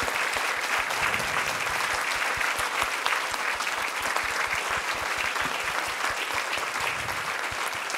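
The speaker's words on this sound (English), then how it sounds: "Can we just give Alvaro another round of applause?" An audience applauds steadily after a live musical performance at BFEC, a dense, sustained wash of many hands clapping close and loud throughout.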